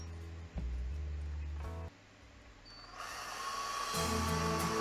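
A power drill driving axles into a Dinky model Austin FX3 taxi: a short motor whir early on, then a brighter, louder whine that rises and holds toward the end, alone with no talk.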